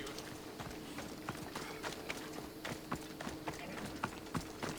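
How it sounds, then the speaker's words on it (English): A horse's hooves clop steadily in Assassin's Creed Odyssey, repeated sharp hoofbeats at a moderate distance over a low background bed as the horse walks along. "Alright, let's put the horse where she belongs."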